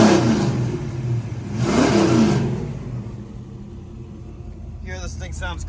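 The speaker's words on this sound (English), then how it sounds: "Let's give this thing a rev." A 1972 Ford Mustang Mach 1 engine revs up twice in quick bursts, the swells rising and falling close by before settling back to a steady idle, with a person talking briefly at the end.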